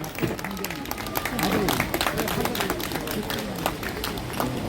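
Applause from a crowd at an outdoor political rally in front of a party headquarters, clapping and cheering building and sustained over background voices.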